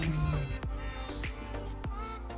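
Omni enteral feeding pump alarm beeping in short bursts, triggered by pinched tubing, a high tonal beep repeating several times over a steady mechanical background, close and fairly loud.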